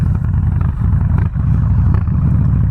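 A Harley-Davidson Softail Slim with a 103ci engine rumbles loud and close, its deep throbbing exhaust holding steady with a brief dip before the revs rise again.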